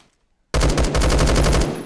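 Automatic AK-12BR fire in the video game Phantom Forces, a loud, fast burst of rapid shots lasting just over a second after a brief near-silence, close and punchy, without any talk.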